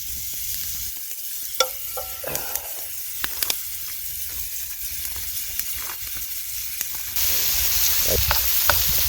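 Vegetables sizzling and frying in a pan at a winter campsite in minus 15 degrees Celsius, a steady hiss broken by scattered stirring clicks and scrapes, growing louder near the end.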